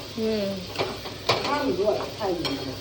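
Onions sizzle as they hit a hot pan, with spoon stirring, pot clatter and scraping close by while someone talks over the cooking.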